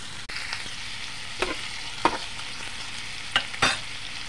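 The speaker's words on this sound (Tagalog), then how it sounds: "Haluin ang haluin." Chopped garlic and onion sauté together in a pan for a beef offal dish, a low hiss of frying with four or five distinct scraping strokes of a spoon, close and unaccompanied by speech.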